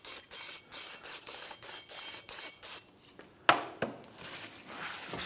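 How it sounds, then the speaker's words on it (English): Repeated short bursts of brake cleaner sprayed onto a brake rotor, about eight in a steady rhythm, followed by a few clanks and a softer hiss, close up. "Just gonna spray this with brake clean."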